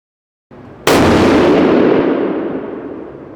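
A single powerful report from a Weatherby 307 rifle, sharp and loud after a brief lower rumble, trailing off in a long outdoor echo.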